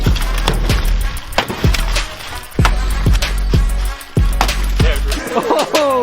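A strong piece of glass being struck and smashed, a rapid series of loud, sharp impacts with cracking bursts repeating close up over a steady low rumble, ending in brief high ringing shards.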